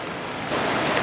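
Liquid drains from a Kubota B7100D tractor into a basin below, a steady close splashing pour that swells louder halfway through and keeps running without a break.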